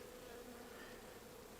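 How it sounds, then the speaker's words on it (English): Dense, steady buzzing of many bees in the bottom box of a hive, a continuous low drone that is close and constant throughout. "Now there are a lot of bees down in the bottom box."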